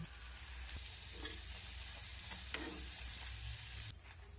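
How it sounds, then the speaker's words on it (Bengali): Semolina and egg snacks fry in a small amount of hot oil, giving a steady, close sizzle throughout with faint stirring clatter, no voices. "আর বাকিগুলো একই রকমভাবে ভেজে নেব"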